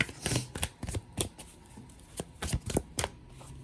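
Close, papery riffling and tapping of a deck of cards being shuffled, in quick irregular bursts.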